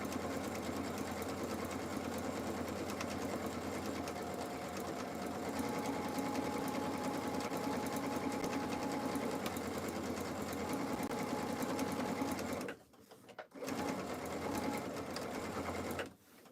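A sewing machine runs steadily while sewing placemats, a close, continuous rapid whirring hum that stops briefly near the end before starting up again, with no talk over it.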